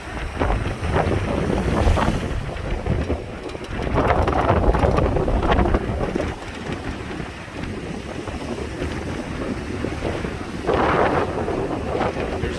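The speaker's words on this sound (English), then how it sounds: "Storm coming in" Gusty wind ahead of an incoming atmospheric river storm roars and buffets the microphone near open water. It comes in strong surges and brief lulls with no voices.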